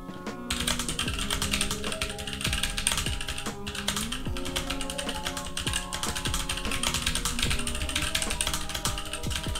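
Typing on a budget mechanical keyboard with blue switches: a dense, steady run of clicky keystrokes, close and continuous, with no talking over it.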